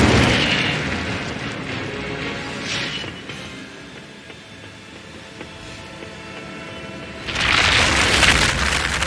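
Fire spell blasts from the Incendio charm in Hogwarts Legacy, a broad rumbling burst at the start that fades into a low, crackling ambient bed, then a second loud hissing flare near the end.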